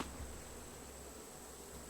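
Bees buzz steadily in the survival video game Raft, a thin continuous drone that stays at an even low volume with no voices.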